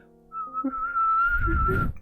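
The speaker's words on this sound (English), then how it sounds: "Biasha whistled" A character in the video game Tiny Bunny gives a single clear, sustained whistle on one steady pitch, with a low rumbling background underneath toward the end.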